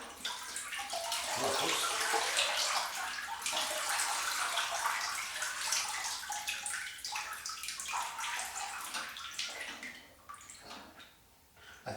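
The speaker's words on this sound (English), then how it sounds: "I think a lot of that water just came out of the supposed storage compartment on the very bottom" Water pours and splashes out of the bottom compartment of a G.I. Joe Killer Whale toy vehicle, a steady close gushing that tapers toward the end, with one brief spoken exclamation.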